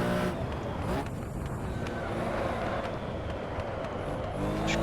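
Porsche 917K race car engine in the Assetto Corsa racing game, a continuous dense roar with shifting revs and brief gear-change breaks, sounding close and sustained throughout.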